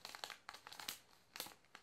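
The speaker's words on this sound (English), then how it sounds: "They always crumple up the certificate of authenticity" A Mattel doll's certificate of authenticity paper crinkles and crumples in quick, faint bursts, close and quiet with no talking.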